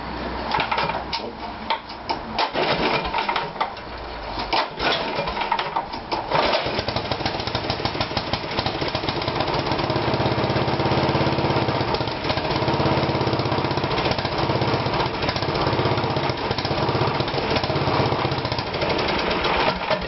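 A Toro GTS walk-behind lawn mower engine is started and keeps running with a surge, a loud close rapid putter that rises and falls unevenly as the idle hunts.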